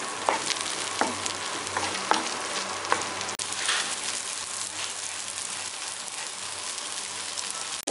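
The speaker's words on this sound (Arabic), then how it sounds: "العيش لحد ما يتحمص معانا" Egyptian baladi bread toasting in a frying pan as it is stirred: a steady, close crackling sizzle of hot fat with a few sharp clinks of a utensil against the pan.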